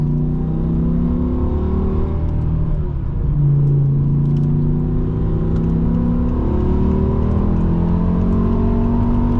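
A 2007 BMW M6 with a V10 engine drives smoothly, its steady engine drone and rumble heard from inside the cabin, pitch rising and falling gently with light acceleration.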